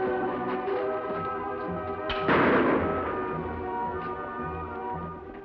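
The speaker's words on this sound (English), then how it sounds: "Pistol shots, Kimasabi." A single sharp pistol shot cracks out over a steady musical score, one loud burst with a short decay, and no other shots follow.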